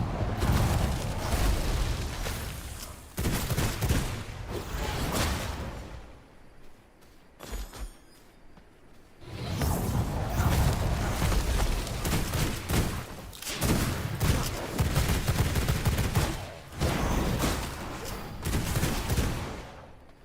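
Rapid pistol gunfire in V Rising, heard as dense bursts of shots that come in several loud clusters over about twenty seconds, broken by short quieter gaps, with game effects filling the background.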